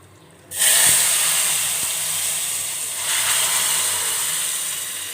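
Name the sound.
buttermilk added to roasted semolina, sizzling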